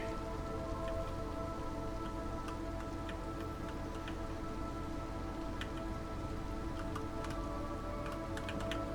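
Rain in the video game Against the Storm patters steadily on surfaces with scattered drop ticks, a soft continuous wash with no talk.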